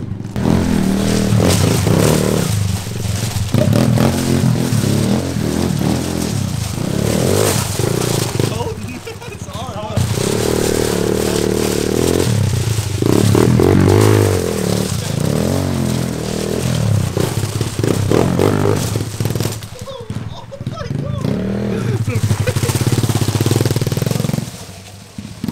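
A Kawasaki KLX110 pit bike runs on a dirt track with whoops and a berm, its small engine buzzing and revving almost continuously, with voices talking over it.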